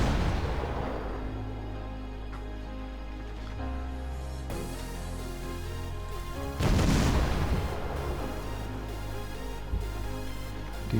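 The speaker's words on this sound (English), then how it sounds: "Let's see how close these shells are going to land." Naval shells firing and landing in World of Warships, played from a Sims tier VII destroyer: a dense, continuous rumble of booms and gunfire with a louder blast partway through, over a steady low engine-like drone.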